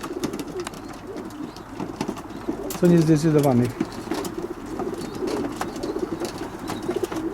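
A single pigeon coo rises clearly in the middle, surrounded by background chatter and people talking nearby.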